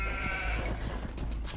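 Sheep bleating in the Age of Empires video game, a couple of short, nasal bleats over a low game background hum, fairly faint.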